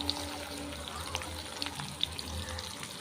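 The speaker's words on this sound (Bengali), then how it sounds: "এবার এর মধ্যেই দিয়ে দেব এই যে কুচানো পেঁয়াজ রয়েছে" Chopped onion goes into hot oil with two or three dried red chillies, giving a soft, steady sizzle with scattered crackles and pops throughout.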